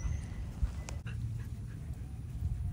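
Playful adoptable dog panting with soft breathy puffs and faint whimpers, close to the microphone, brief and fairly quiet over low background noise.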